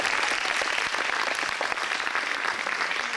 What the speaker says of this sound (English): You can clap for Mr. Spellerberg